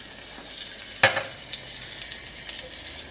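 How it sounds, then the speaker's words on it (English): Garlic and ginger drop into hot canola oil in a pan and sizzle with one sharp burst, then settle into a soft, steady crackle with a few light pan clinks, heard close with no talking. "put a little more canola oil in here. And we're going to add the garlic and the ginger"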